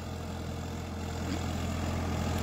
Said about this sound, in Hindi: তো দেখো গাড়ি চলছে।